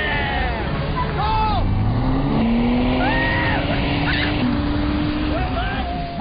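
A Nissan Altima accelerates hard, its engine drone climbing and surging steadily and loud throughout, with excited voices shouting over the motor.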